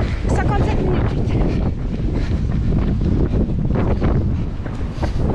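Strong wind on a coastal trail during a Côtes d'Armor ultra trail race, loud constant roaring buffeting against the microphone from start to finish, with voices partly buried under it.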